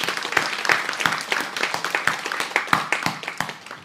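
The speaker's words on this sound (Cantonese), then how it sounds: "所以我哋俾掌聲" Applause from a church congregation during a Sunday sermon, a dense burst of many hands clapping steadily throughout, fairly close and loud, with no talking over it.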